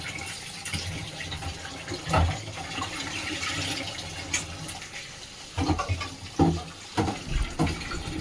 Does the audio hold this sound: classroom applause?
no